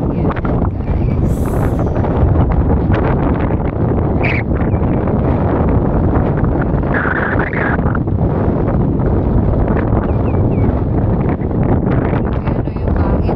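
Strong wind at the seashore roars against the microphone in a loud, constant rumble that buries everything, with brief faint rustles and squeaks on top.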